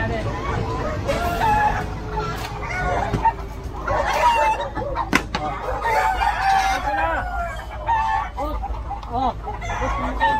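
Caged chickens confiscated from a city sidewalk cluck and crow amid street bustle, with people talking nearby and occasional sharp knocks from the handled cages.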